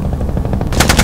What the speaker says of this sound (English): Near the gunfire, I can't see them though.